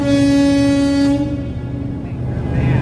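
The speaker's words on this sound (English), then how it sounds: "Everyone's honking their horns." Horns blare all at once in a loud, sustained chord of several tones that cuts off after about a second, leaving low rumble and a faint horn-like tone farther off. No one speaks.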